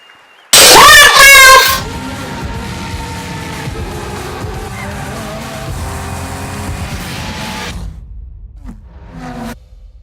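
Racing cars from the game Project Cars 2: a loud burst of engine roar and whooshing tire squeal up front, then a steady engine drone that runs for several seconds before cutting off, with a brief faint sound near the end.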